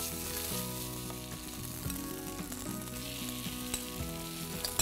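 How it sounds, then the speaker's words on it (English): Potato cheese rosti mixture sizzling in hot oil in a pan, a continuous close hiss and crackle with a few spatula scrapes, under steady background music and no talk. "Now we'll just spread our rosti mixture."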